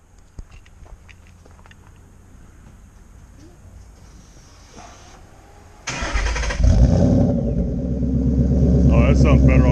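A car's engine starts up, switching to an exhaust with Roush axle-back mufflers and resonated tips. It opens with a quiet idle-like hum under talk, then a sudden loud crank and catch around six seconds into a deep, rumbling idle.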